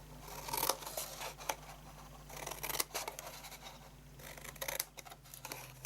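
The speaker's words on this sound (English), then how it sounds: "we're going to match up our cutting the same as we've just done on the other side, cutting out little notches as we go" Small scissors snip notches into a paper cookie box, a close, quiet series of crisp cuts with an irregular rhythm over a low steady hum, with no talking.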